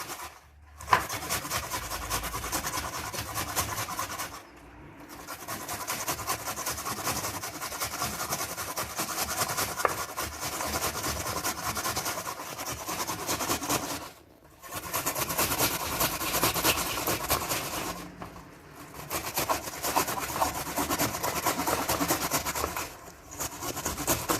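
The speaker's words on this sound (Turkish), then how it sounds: "soğanımı da rendeledim" An onion rubbed on the fine side of a grater produces a steady, close, scraping hiss in long runs broken by a few short pauses, without talk.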